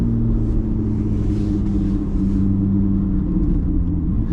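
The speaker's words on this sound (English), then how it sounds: "I didn't think any car could produce the sound of a 458." Chevrolet Corvette Z06 engine droning steadily at close range, a loud deep rumble with sustained low harmonic tones and slight pitch shifts as it pulls, with no talk over it.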